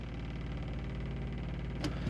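A water-methanol injection pump on a car primes with a steady low electric motor hum over engine drone, ending in a brief sharp click, and no voices.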